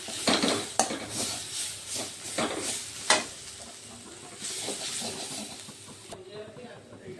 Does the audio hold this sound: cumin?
yes